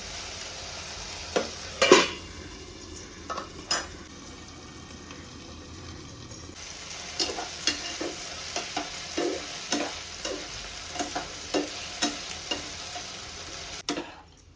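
Sabudana sizzles gently in a hot pan for Marathi-style sabudana khichadi while a spoon stirs it, scraping and clinking in irregular bursts over a soft, constant frying hiss, with no talking.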